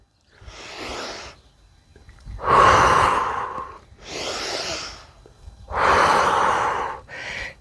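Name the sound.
rhythmic breathing during yoga workout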